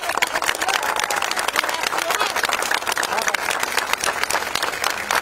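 Loud, dense applause from a crowd at a public gathering in Havana, Cuba, held as a farewell tribute, steady and sustained for several seconds with voices mixed in.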